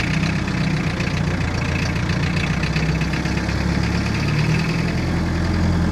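A 3.3 litre Perkins diesel in a 1962 Lancing forklift idling, a steady, loud, close-up knocking clatter that holds evenly throughout without any talk.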